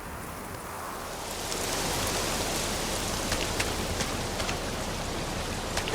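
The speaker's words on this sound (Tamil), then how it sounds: "மழை ரொம்ப அதிகமா பெய்யுது." Heavy rain pours down steadily, a dense hiss that swells after the first second and then holds loud and even, with a few sharper drip spatters on top and no voices.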